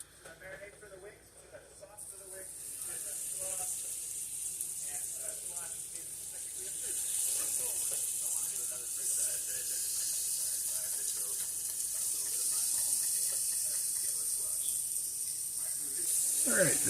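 Extra-large tail-on and small seasoned shrimp sizzle steadily in a hot buttered pan, a bright hiss that builds after the first couple of seconds and holds under a person talking throughout.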